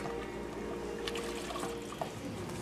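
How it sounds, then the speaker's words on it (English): About four cups of chicken broth pour into a cooking pot for Mexican pollo con chochoyotes, a steady continuous liquid splash and trickle with no talking over it. "I'm going to take some of my broth from my chicken and I'm just going to pour it right in, about 4 cups."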